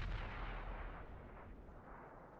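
Rapid gunfire in a competitive video game match, a burst of heavy booming shots at the start that tails off into a rumbling decay, quiet and somewhat distant with no voices over it.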